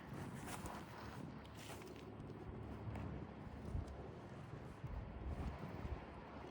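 Wind outdoors blows as a faint, continuous broadband rush, with low rumbling gusts buffeting the microphone unevenly across the whole stretch.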